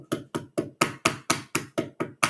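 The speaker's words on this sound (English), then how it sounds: "I can hammer them in and really get them set." Plastic Mould King building pieces are hammered into place, ten crisp, evenly spaced taps at a quick steady rhythm, close and fairly loud with nothing else heard.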